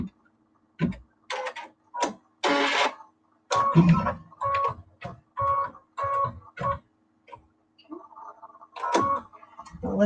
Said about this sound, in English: It's just stitching out this last little piece.